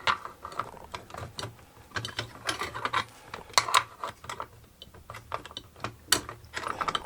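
A spanner works the collet nut on a Bosch POF 1200 AE router to loosen it, giving close, irregular metallic clicks and ratcheting taps in quick bursts with no talking.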